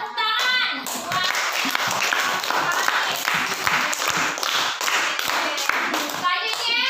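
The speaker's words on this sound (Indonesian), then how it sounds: "Iya, tepuk tangan." Schoolchildren in a fifth-grade classroom clap their hands in a lively burst of applause that fills the room, with children's voices calling out at the start and end.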